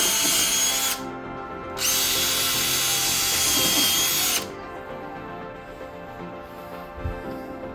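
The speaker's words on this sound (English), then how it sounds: "we're going to pre-drill this so we don't split our jamb" A power drill whirs at high speed in two close bursts separated by a short pause, pre-drilling a wooden door jamb, then winds down, leaving quiet room noise.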